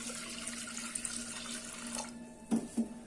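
Tap water pours steadily onto washed moong dal in a pressure cooker, a continuous close rushing stream that runs alone for about two seconds, then cuts off into a few short splashes and drips.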